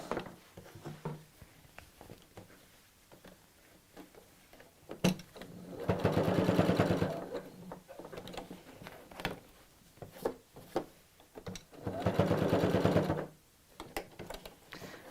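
Sewing machine tacking the straps of a tote bag close to the fabric edge, two loud bursts of rapid stitching, each about two seconds, separated by quieter handling and fabric rustle.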